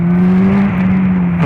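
A Honda Hornet 600 motorcycle engine pulls hard under acceleration, giving a loud, close, steady engine drone with a strong low tone throughout and no talk.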